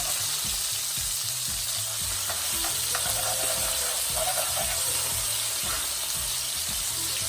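Fish fries slowly in a pan, with a steady close sizzle and crackle running throughout, joined by occasional soft scraping and stirring sounds and no voices.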